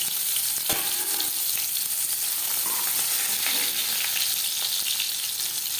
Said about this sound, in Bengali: মাছ আমি হালকা করে ভেজে নিলাম